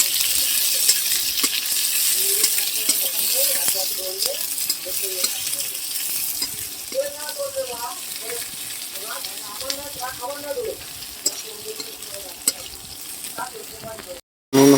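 Chopped onion and chili stirred in a hot frying pan give off a steady, close sizzling hiss with soft scraping strokes, while a faint voice or tonal murmur drifts in underneath.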